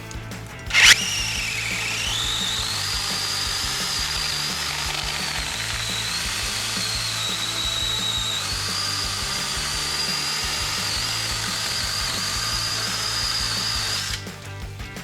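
A TROOZY 6-inch battery mini chainsaw runs with a loud, steady high-pitched whine while cutting firewood, holding for about thirteen seconds before stopping.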